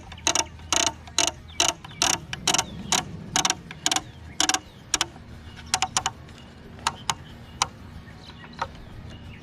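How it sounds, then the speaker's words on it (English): Someone tightens the blade nut on a STIHL iMow robotic mower with a ratchet, producing a rapid run of crisp clicks close by, followed by sparser, slower clicks. "then just simply take the nut and tighten it back up"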